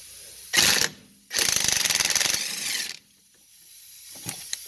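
On a 1998-2002 Honda Accord, a 1/2-inch impact wrench with a 17mm socket removes a front brake caliper bracket. A short, loud hammering burst is followed by a longer rattling run that tapers off, then quiet with a few faint knocks.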